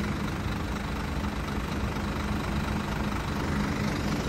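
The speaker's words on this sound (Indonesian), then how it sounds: "Suara idle mesin itu enak banget," A Scania diesel bus engine idles steadily, a continuous low rumble with a faint knocking texture and no voices.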